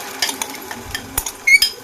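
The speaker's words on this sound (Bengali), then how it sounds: "কড়ার তেলটা গরম হয়ে গেছে আমি এর মধ্যে ফেটানো ডিমটা দিয়ে দিলাম" Beaten egg going into hot oil in a wok, with soft sizzling and several sharp spoon-and-metal clinks and stirring taps close by.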